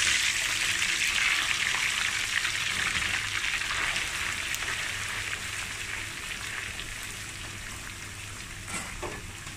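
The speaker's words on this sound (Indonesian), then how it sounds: "Nih, disuir terus digoreng kering." Shredded duck for Balinese lawar fries dry in hot oil, a steady dense sizzle and crackle that carries throughout and eases slightly toward the end, with no talking.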